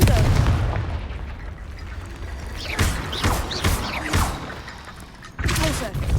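A Confringo blasting spell in Hogwarts Legacy goes off as a burst of booming, gunfire-like impacts that repeat over several seconds, with a few thumps and a louder blast near the end.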